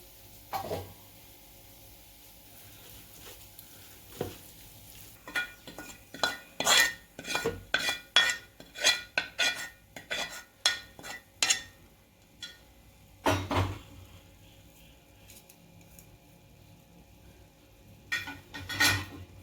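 Pumpkin masala mixed with curry leaf powder and salt in a pan for pumpkin gutabs, heard as a quick run of close, sharp metal spoon scrapes and clinks against the pan, with short pauses between bursts.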